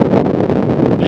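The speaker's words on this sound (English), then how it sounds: "Very windy." Strong wind buffets a microphone outdoors in Bobby Dodd Stadium on a breezy day, a loud, low rumbling gust of noise pressing steadily throughout a brief moment with no speech.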